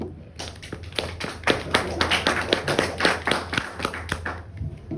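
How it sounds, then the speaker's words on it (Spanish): A class of students gives a round of applause for a classmate, a burst of clapping from a small group that swells and then fades out. "Aplauso para Mardone."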